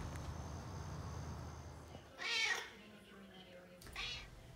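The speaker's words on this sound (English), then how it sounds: "My little alley cat following me around, talking to me in the morning." An alley cat meows in the early morning while still dark out, two short cries standing out against a steady low hum of the room.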